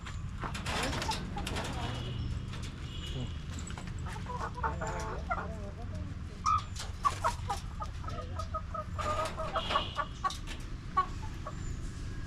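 Hens cluck repeatedly at close range in their new coop on a chicken farm, short throaty calls scattered over a low background rumble and faint movement noises.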